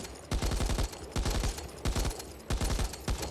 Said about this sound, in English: Something else like the light machine gun, which has low damage, high rate of fire and capacity.